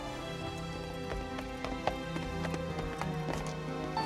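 Horse hooves clip-clop in a steady trot, pulling a horse-drawn cart, heard moderately close under a continuous musical background with a few sharper accents.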